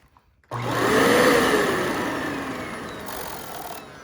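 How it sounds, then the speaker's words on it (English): A Dyson vacuum cleaner switches on with a loud whir that rises and settles into a steady, close motor roar as the brush roll spins. "I'm going to turn the vacuum on, and you will see the brush roll spin"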